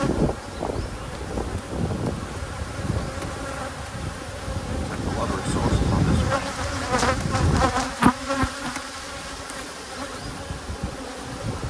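Honey bees swarm around a heavy frame full of honey pulled from a nuc hive, giving a dense, steady buzz close to the microphone, with wind rustle and a few sharp knocks.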